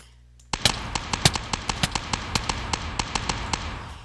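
A modded Minecraft weapon from the Forest of Helheim mod fires a rapid, evenly spaced series of sharp, snappy shots after a brief quiet start, about fifteen crisp cracks in a row.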